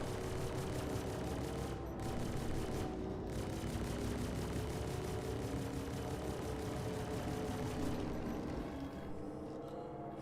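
Turret gunners on a Star Citizen spaceship firing, a continuous rapid stream of shots layered over a droning engine hum, steady and dense for the whole stretch before easing slightly at the end.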